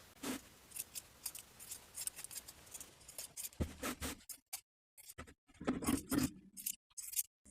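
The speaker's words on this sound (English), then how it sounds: "Trim the seam allowance in half all the way around." Scissors trim a fabric seam allowance on a sewn jumper, a series of close, crisp snipping cuts in irregular bursts with short quiet gaps between them.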